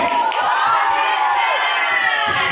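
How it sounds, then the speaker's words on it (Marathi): A large crowd cheers and shouts at a late-night celebration, a dense continuous roar of many voices with high-pitched yelling throughout. "आमच्यासाठी एकदा जोरात हात उंच करून ओरडण्याचा आवाज घे"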